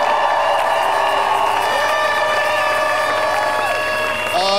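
A church congregation cheers and acclaims Jesus in a loud, sustained roar of voices that holds steady throughout, with shouts and whoops rising over the crowd noise.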